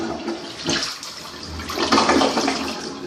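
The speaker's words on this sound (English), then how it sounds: "if you are interested in installing a quality toilet that has a good flush" A residential toilet flushes with a loud, continuous rush of water that surges and swirls for about three seconds, heard alone without talk.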